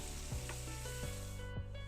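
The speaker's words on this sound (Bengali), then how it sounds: "কেটে রাখা আলুগুলোকে একটু হালকা লাল লাল করে ভেজে নেব" Cut potatoes seasoned with turmeric and salt fry in a hot wok, giving a steady, even sizzle throughout with a few soft scrapes of stirring at regular intervals.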